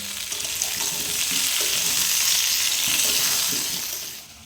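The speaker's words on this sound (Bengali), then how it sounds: "আর আলুটাও লাল লাল করে ভেজে নেবো" Potato pieces fry in hot oil in a pan, a steady, dense sizzle that holds loud for the whole stretch, with a few soft stirring scrapes underneath and no talking.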